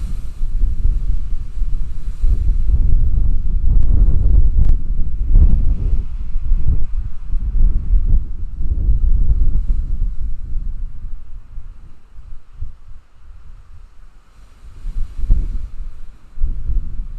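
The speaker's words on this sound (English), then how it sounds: "Brace yourself for the gust." Strong outdoor gusts buffet a microphone during a warm, windy open-air yoga class, producing heavy low-pitched rumbling that swells and fades in waves, loud and close throughout.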